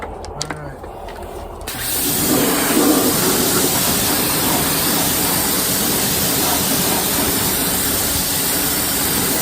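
A pressure washer sprays soap onto a 2008 Malibu, a loud steady hiss that starts after a quiet second or two and continues unbroken.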